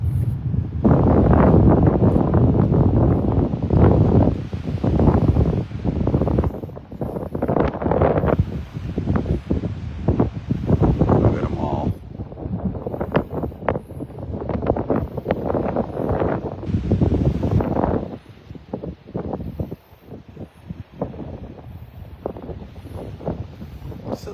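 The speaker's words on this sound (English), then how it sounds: "breezy up here this morning, not too bad" Strong morning wind blows across the beach at Delnor-Wiggins in North Naples, Florida, buffeting the microphone in loud roaring gusts that ease for a few seconds near the end before building again.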